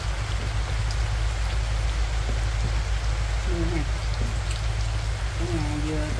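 Rain falls on a house in rural Vietnam in a steady, dense patter that lasts the whole time, with brief voices heard over it.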